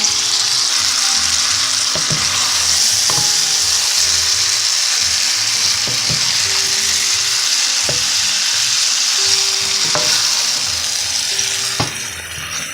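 Chicken curry with a whole pepper sizzles and fries steadily in a pan, a loud continuous hiss broken by a few sharp clicks and knocks of stirring.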